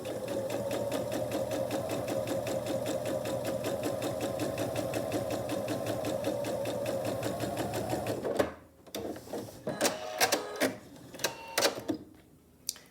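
A sewing machine stitches a scant quarter-inch seam while piecing a quilt, running steadily with a fast, even whirring rhythm for about eight seconds, then stopping abruptly and giving way to quiet handling clicks and fabric sounds.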